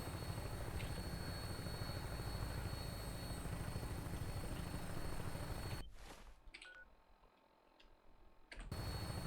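A vertibird aircraft flies in the video game Fallout 4. Its faint, steady rotor drone cuts out for a few seconds and then returns.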